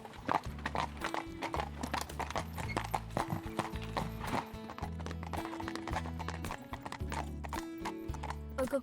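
A harnessed horse pulls a cart at a steady pace, hooves clip-clopping in a regular, close rhythm throughout, with an occasional neigh and faint rolling and creaking from the cart.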